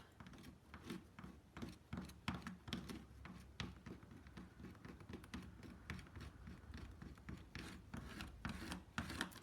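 Encaustic wax scraped off a painting surface: continuous dense rasping and scratching strokes in a quick, uneven rhythm, close and fairly quiet, with no talk.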